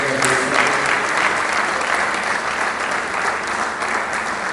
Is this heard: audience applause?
yes